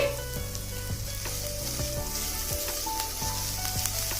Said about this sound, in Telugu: ఈ మింతాకు కూడా వేసి బాగా వేగనివ్వండి